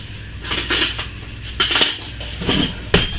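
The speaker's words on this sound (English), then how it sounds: "so we're going to stir that down, but it's not too thick" Thickened soap batter mixed with cocoa powder being stirred by hand in a container, giving a run of close, irregular scraping clinks and knocks of the utensil against the vessel, with no talk.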